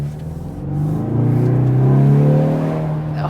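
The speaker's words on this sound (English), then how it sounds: "Oh yeah, that sounds pretty good. This one has an optional exhaust package." Ford Mustang Convertible EcoBoost with an optional exhaust package, 2025 model, its engine revving up with a rising exhaust note that swells, holds and eases off, close and loud.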